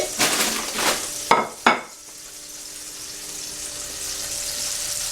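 A ground beef patty for a burger is dropped into a hot pan. Hissing and a couple of sharp clatters of pan and utensil come first, then a steady, gentle sizzle continues alone.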